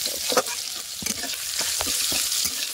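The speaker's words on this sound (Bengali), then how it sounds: "দিয়ে পেঁয়াজটাকে একটু ভালো করে ভেজে নেব" Onions frying in oil in a wok, a steady bright sizzle with intermittent scraping stirs of a spatula, close and fairly loud with no talk.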